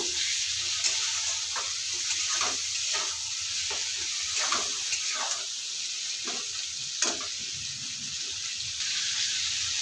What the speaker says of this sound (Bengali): মাংসগুলো দিয়ে দেবো দিয়ে মাংসটা কষিয়ে নেব